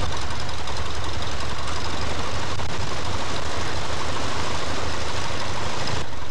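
Four-cylinder aircraft engine missing on one cylinder, running loud and continuous with a rough, uneven throb.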